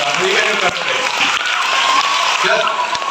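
An audience at a Prathibha Karanji school program at Little Flower School, Darbe Puttur, applauds in a dense, steady wash of clapping, with voices audible over it.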